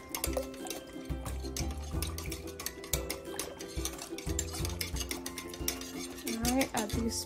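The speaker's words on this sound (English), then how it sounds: "So we're gonna whisk it. Make sure it all dissolves really good." Sourdough starter mixture being whisked in a bowl, with busy clinks and scrapes of the whisk against the bowl and liquid sloshing, close and continuous, with background music underneath.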